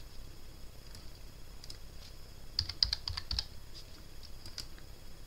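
An email address is typed on a computer keyboard as scattered soft key clicks, with a brief quicker cluster in the middle, close but quiet over faint background noise.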